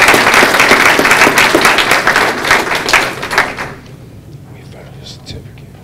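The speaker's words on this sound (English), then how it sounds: "Give her another round of applause for Caitlin." A board meeting audience claps loudly for an honoree in a round of applause that lasts about four seconds and then stops abruptly, leaving quiet room noise with faint murmuring and a few soft sounds.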